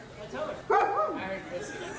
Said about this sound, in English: This dog is all ready to drink.